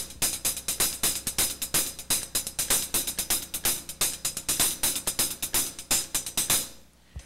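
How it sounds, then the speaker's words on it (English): Rapid, crisp hi-hat strokes playing paradiddles with some accented hits run in a busy, even drum pattern, then stop and fade at the end. "there's a paradiddle starting on the second beat and a paradiddle-diddle starting on the end of 3."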